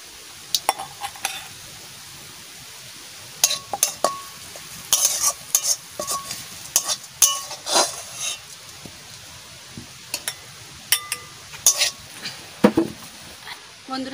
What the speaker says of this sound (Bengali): কচুরলতি ভাজা।